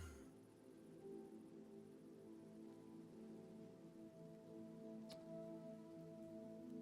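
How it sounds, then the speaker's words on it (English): Steady rain falls across a Minecraft survival world on PandoraSMP, a continuous dense patter with a low rumbling bed, alone and unbroken, with one brief sharp crack near the end. "it's fucking raining"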